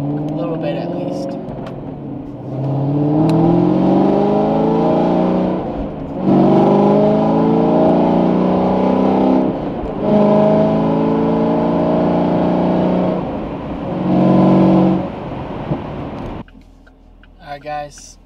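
A 2020 Chevrolet Camaro SS with performance mods accelerates hard through several gears, each pull a loud rising engine roar broken by brief shift dips, recorded from inside the car before it settles near the end.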